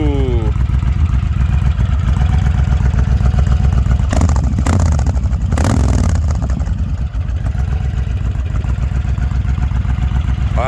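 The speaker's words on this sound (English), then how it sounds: "Can you turn the Cobra exhaust on" A 2020 Honda Fury motorcycle idles with a throaty Cobra aftermarket exhaust, then revs sharply in short bursts before settling back to a loud, rumbling idle.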